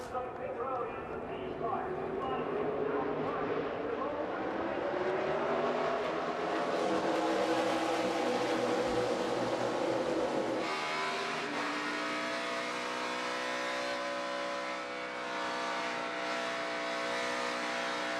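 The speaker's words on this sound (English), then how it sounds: "You can hear Harvick playing with the throttle." Kevin Harvick's NASCAR race car engine drones steadily at the 2017 O'Reilly Auto Parts 500, revving up and down on the throttle beneath a continuous commentator's voice and other cars.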